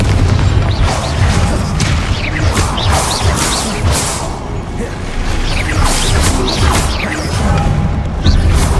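Dense, loud explosions and crashing impacts from a fire-blast spell in the Hogwarts Legacy video game, layered with rumbling booms and mechanical clatter throughout.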